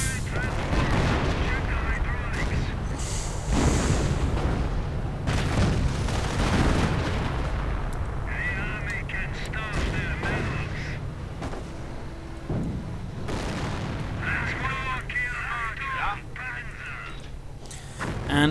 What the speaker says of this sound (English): Just launching everything he has at those damn panzers.